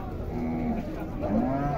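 Low, drawn-out cattle moos rise and fall over the steady din of a crowded livestock fair in Tabira, Pernambuco, where bulls and steers are being priced and sold, with indistinct voices mixed in.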